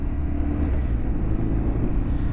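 A 2009 BMW R1200RT motorcycle pulls away on light throttle, its engine a loud, steady low rumble heard up close with a continuous drone and little change in pitch.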